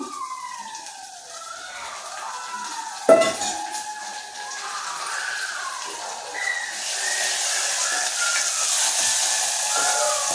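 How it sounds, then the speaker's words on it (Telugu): Moong dal is dropped into oil in a pan and stirred: a sharp metallic clank, then a rising, steady sizzle, while a wavering siren-like tone drifts in the background. "నూనెలో వేసి కలపాలి."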